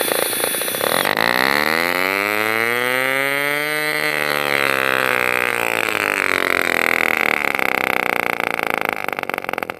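A tiny nitro-powered RC car engine runs with a loud, buzzy whine that rises and sweeps in pitch as it revs, then settles into a high steady drone.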